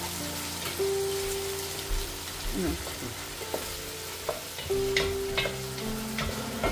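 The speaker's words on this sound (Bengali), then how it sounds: "আমি একটু নাড়া দিয়ে দিই" Meat cooking in a pot is stirred, giving a crackling, rain-like sizzle broken by scrapes and clinks of the utensil. A faint tonal hum sounds at two points.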